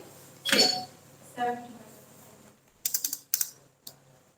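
Computer keyboard keys pressed while entering a voucher in Tally accounting software: a quick cluster of crisp close taps and a single later tap, following a voice speaking Hindi.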